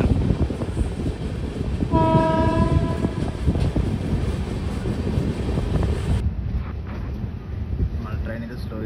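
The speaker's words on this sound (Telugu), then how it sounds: "మన ట్రైన్ అయితే స్లో చేసేసారు." On board the 17040 Vasco-da-Gama Express from Hubballi to Kurnool, a passenger train slows after Koppal on its way to Hospet Junction, with a steady loud rumble, a sustained horn around two seconds in, and a quieter tail near the end.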